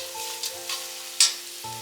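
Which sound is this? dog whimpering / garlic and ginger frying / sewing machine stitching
garlic and ginger frying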